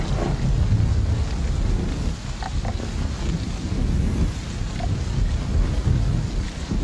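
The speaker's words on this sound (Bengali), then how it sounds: "বৃষ্টির ধারা অব্যাহত রইল।" Steady heavy rain pours down with low rolling thunder, a dense continuous wash of sound with wind buffeting the microphone, constant in level throughout.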